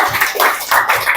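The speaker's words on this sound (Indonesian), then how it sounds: "tepuk tangan buat kita semua" A classroom group applauds together, brisk, steady hand clapping that swells and dips in short waves, fairly loud and close, with no talk over it.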